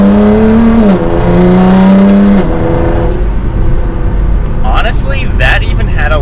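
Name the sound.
Nissan GT-R R35 accelerating with exhaust valve open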